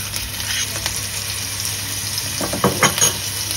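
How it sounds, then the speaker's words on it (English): Chopped onions and garlic sizzle and fry in a pot for a Thai-style spicy pumpkin soup, a steady close hiss with a few soft stirring knocks near the end. "Once the onions have softened a little bit, we can add in the chopped garlic or your garlic cloves."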